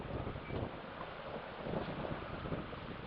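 Strong wind buffets the microphone beside a Dragonforce 65 radio-controlled sailboat out on open water, a steady broadband rush with gusty swells and faint waves, continuous and loud throughout.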